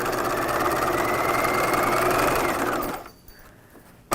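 A sewing machine runs steadily for about three seconds while stitching a V-neck seam on a 1950s shelf bust dress, with a fast mechanical whir that stops abruptly.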